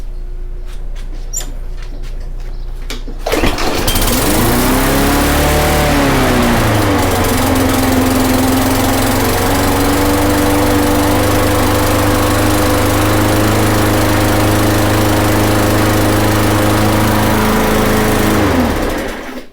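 Briggs and Stratton small engine with a plastic carburetor catching after a pull start, surging briefly then settling into a loud, steady, buzzy run close by until it cuts off.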